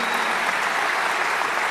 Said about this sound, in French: vous pouvez les applaudir et les encourager